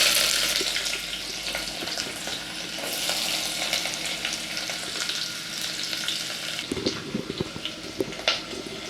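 Sliced onion drops into hot oil with a crackled bay leaf for a Malvani black pea sambar, giving a steady close sizzle with watery hiss and a few clinks and stirring knocks near the end.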